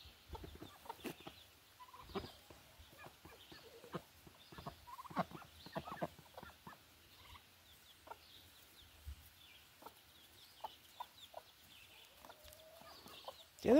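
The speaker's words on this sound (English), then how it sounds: "It's the turkeys and ducks that are having a bit of a fit." Outdoor flock of chickens, turkeys and ducks calling in a steady scatter of short clucks, gobbles and squawks, some close and some farther off, with no talk over them.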